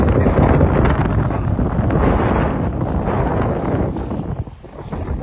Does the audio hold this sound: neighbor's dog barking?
no